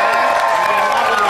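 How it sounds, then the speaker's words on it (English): A television studio audience applauds and cheers at a satirical comedy show, a loud, dense, continuous wash of clapping and whoops with voices mixed in. "Big round of applause, too, for the Silver Foxy ladies."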